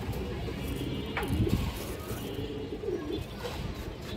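A red gorra female pigeon coos in low, repeated rolling calls close by, with a few other soft bird sounds in the background.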